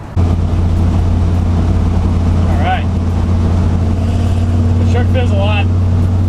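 A Ford F100 pickup truck's engine runs steadily while driving, a loud continuous low drone with road and wind noise, and someone talks briefly over it.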